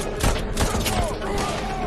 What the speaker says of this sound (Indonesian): Namun, para penjaga Vogel datang dan menembaki semua orang.